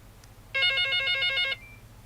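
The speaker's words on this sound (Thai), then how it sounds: "เสียงโทรศัพท์เข้ามา" A telephone rings with one electronic trill burst of about a second, loud and close over a low steady hum, then fades out.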